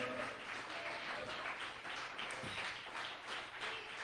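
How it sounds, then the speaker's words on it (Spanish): A church congregation applauds for several seconds, producing a dense, even wash of clapping, fairly faint and distant in the room, with no one speaking over it. "¿Habrá alguien que pueda aplaudirle con toda su fuerza al Rey esta noche?"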